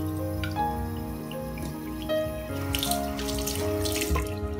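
Warm water runs steadily from a tap into a sink to wet a cloth, a continuous close splashing stream with brighter bursts toward the end and no talking.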